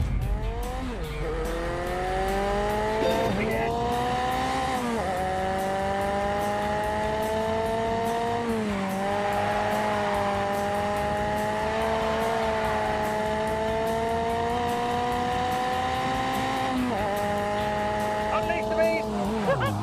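Ford Cosworth race car engine in a video game, revving loud and steady with rising and falling pitch through gear changes, tires squealing in places, heard close throughout under talk.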